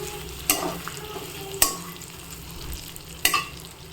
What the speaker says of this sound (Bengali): এটা একটু কষিয়ে তারপরে এর মধ্যে জল অ্যাড করে দেবো